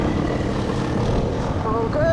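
A camera drone hovers high over a ridge top on a Peak District green lane, its propellers giving off a steady droning buzz. A higher whine rises near the end over broad outdoor noise.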